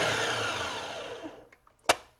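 A food processor whirs loudly and steadily while blending a vegan, nut-free chocolate rum ball batter, then spins down and stops, followed by a sharp clack as the lid or bowl is handled.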